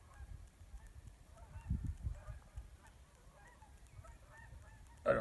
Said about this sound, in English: Geese are flying. I can hear them.